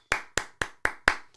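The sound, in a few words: person clapping hands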